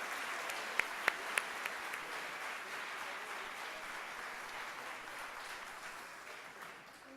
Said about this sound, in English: Let's give a big round of applause to those celebrating 25 years of service.